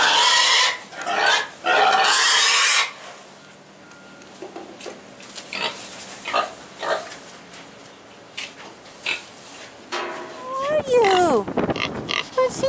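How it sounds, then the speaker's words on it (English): A hungry pig of about a year old oinks and grunts on a farm in short loud bursts at first, then quieter snuffling, ending with a higher squeal-like call. "What a hungry pig looks like"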